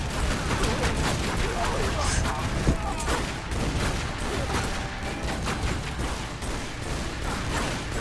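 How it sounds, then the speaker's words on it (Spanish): Gunfire from the video game Tomb Raider Underworld, a dense, continuous fusillade of rapid shots and impacts with a heavy low rumble, heard under a voice speaking throughout. "Que me están fundiendo a tiros"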